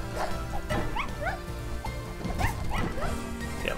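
Dog-type enemies in the video game Spiral Knights making repeated yipping, whining barks over continuous game music and effects, rapid and layered.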